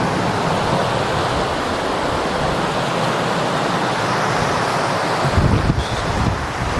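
Water gushes over the Caban Coch Dam in the Elan Valley as a loud, steady roar of rushing water, with some wind buffeting at the microphone near the end.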